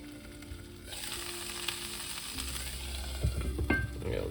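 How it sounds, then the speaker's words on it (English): Eggs fry in a hot pan, and a splash of water sets off a sudden burst of loud hissing steam that then settles into steady sizzling and crackling, close up, with no talking. "I'm just gonna put the tiniest bit of water in here just to sort of steam the tops of those eggs a little bit"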